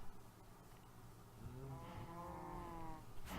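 A single sheep in a farming video game lets out a low, drawn-out bleat, quiet and close, with no talk.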